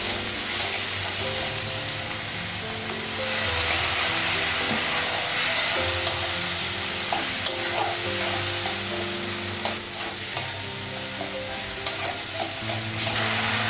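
Tomato, ginger paste, turmeric and onion sizzle and fry in a pan as a steady hiss, with occasional scraping stirs and small clinks close by, no talking.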